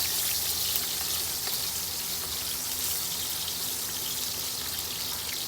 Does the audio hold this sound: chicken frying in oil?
yes